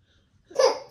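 An 11-month-old baby sneezes once during a dessert mealtime: a short, sharp burst after a moment of near silence, fairly close and alone.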